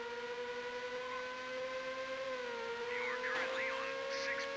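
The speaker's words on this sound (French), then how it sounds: "le bruit dynamique des voitures derrière est assez horrible" Racing car engines whine steadily in Toca World Touring Cars on the GBA, a sustained tonal drone with small pitch shifts and a brief burst of extra engine noise toward the end.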